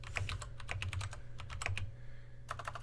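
Fingers type on a computer keyboard in a quick, irregular run of light clicks and clacks, with short bursts and brief pauses. It is moderately quiet and nearby, with no one talking.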